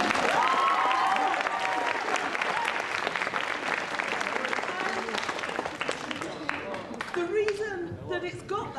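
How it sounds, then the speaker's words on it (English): Audience applause after an announcement at a Mondavi Center fall festival event, dense steady clapping filling the hall for several seconds, with a few voices audible in the crowd as it tapers. "I think that's worth a round of applause."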